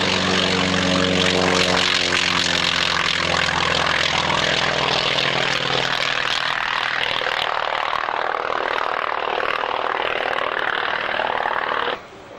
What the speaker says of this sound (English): just listen to the distinctive note of this radial engine as Martin flies T-28 past us